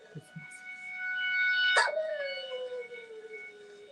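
A dog lets out a sharp bark that stretches into a long, falling howl, preceded by a couple of short yips; close and fairly loud.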